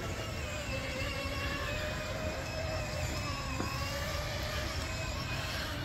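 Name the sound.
Power Wheels ride-on BMW with two motors driving uphill on grass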